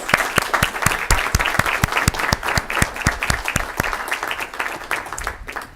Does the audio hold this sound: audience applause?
yes